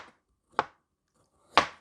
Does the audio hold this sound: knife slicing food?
yes